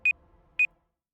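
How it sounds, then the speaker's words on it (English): Two short electronic beeps, evenly spaced about half a second apart, from an alarm going off in a PC game session; clear and alone with faint background hum. "And that was my alarm."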